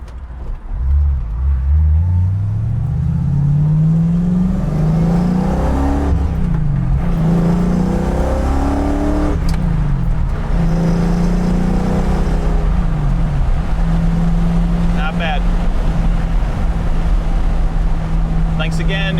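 A 1965 Ford Mustang with a 302 V8 and four-speed manual pulls in second gear, its engine note rising and holding loud and close, with wind and road noise throughout.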